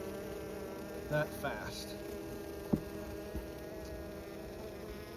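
Honeybees buzzing around a pollen patty on a hive in late winter, a steady low insect drone running throughout beneath brief speech and a few faint handling knocks.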